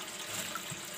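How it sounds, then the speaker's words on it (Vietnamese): Tap water running into a kitchen sink while vegetables are washed, a steady, close splashing hiss through the short moment, with no talking. "Giờ sẽ cho rau vào để rửa các bạn."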